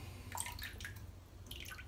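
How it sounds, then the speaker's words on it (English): Water is scooped into a Saponifico Varesino shaving soap bowl, making soft splashes and dripping trickles in short bursts, quiet and close. "Just going to scoop a bit of water in my Saponifico Varicino bowl."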